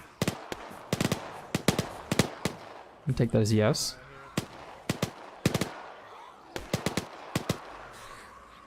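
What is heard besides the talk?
gunfire in the video game Arma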